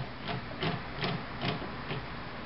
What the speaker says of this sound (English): So I'm actually screwing the toe onto the track.